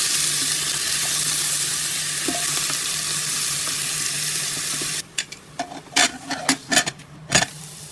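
Onions sauté in a pan as the base for a chicken curry: a steady close sizzle for about five seconds, then a run of sharp stirring clatters and scrapes over quieter frying.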